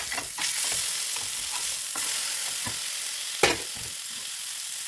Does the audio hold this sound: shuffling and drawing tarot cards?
no